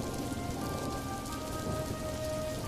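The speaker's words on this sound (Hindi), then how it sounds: "अरे ये क्या, बारिश शुरू हो गई।" Rain begins to fall in a steady, soft patter across a wide area, an even hiss of drops with faint tonal sounds in the background and no voices.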